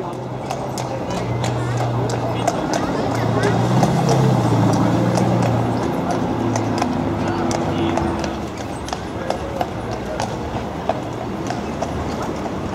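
Horses' hooves clip-clop on the streets of Bruges as they pull a tourist carriage, a steady rhythmic clatter of moderate loudness, with street noise and talk mixed in.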